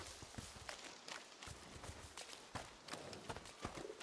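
Horses in the video game A Plague Tale: Innocence snort and blow through their nostrils in a series of short, breathy bursts, with soft hoof clops and shuffling steps in the background.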